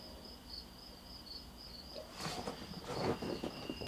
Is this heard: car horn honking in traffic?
no